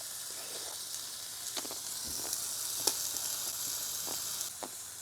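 Steak cooking in a hot pan, with a soft continuous sizzle and faint crackling pops, fairly quiet and steady with no one speaking.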